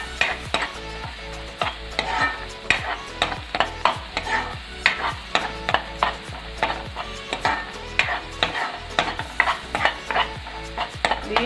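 Beef pickle, Kerala style, is stirred in a frying pan, producing repeated sharp scrapes and clinks of a spoon against the pan at a quick, irregular rhythm over a faint sizzle, close and with no talk.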